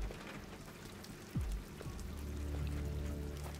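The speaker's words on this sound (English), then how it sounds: "In the rain?" Steady rain falling in the video game Detroit: Become Human, a soft continuous wash of drops on surfaces with a low rumble swelling toward the end and a brief low swoosh midway.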